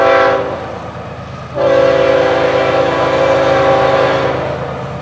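FEC 109 freight train at a junction, its horn blaring loud and close in long sustained blasts with a brief dip between, over the rumble of rolling railcars.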